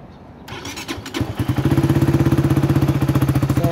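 A Rusi Flame 150X motorcycle with about 6,385 km on it cranks briefly, fires up and settles into a steady, loud, close idle with an even pulsing rhythm.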